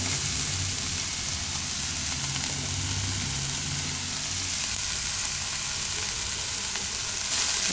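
Onions frying in a pan on a home stove, seasoned with salt and stirred now and then, give a steady close sizzle with soft scraping and stirring textures throughout, no voices.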